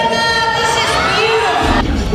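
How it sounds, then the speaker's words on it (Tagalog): A crowd of fans at a Fast & Furious premiere cheers and screams loudly as Vin Diesel and Michelle Rodriguez arrive, dense high-pitched shrieks and shouting filling the whole stretch, close and continuous. "Mas lumakas ang hiyawan nang dumating na ang lead actress na si Michelle Rodriguez at ang lead actor na si Vin Diesel."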